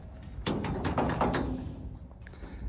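A horse trailer door swings and bangs shut close by, a sharp metallic clunk followed by rattling and settling noise, with no talking.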